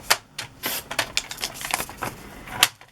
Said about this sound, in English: I'm just going to trim that a little bit.